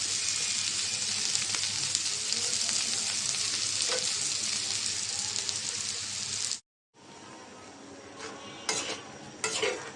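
Spiced food being sautéed in a pan makes a loud, dense sizzle that cuts out abruptly for a moment, then returns softer with scraping stir noises and a few sharp clinks.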